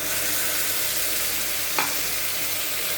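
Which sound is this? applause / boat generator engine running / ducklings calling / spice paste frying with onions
spice paste frying with onions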